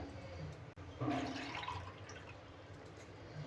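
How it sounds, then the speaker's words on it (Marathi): A glass of water poured into a cooking pot on a lit gas stove, making a soft, short splashing pour that fades over a couple of seconds in a quiet kitchen. "त्या पातेल्यात एक गिलास पाणी घालायचं"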